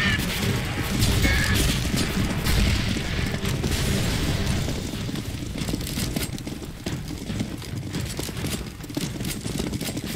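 Grenade explosions in a CS:GO zombie escape game, heard as a dense, loud run of booming blasts and crashes that ease slightly toward the end, with no talk over them.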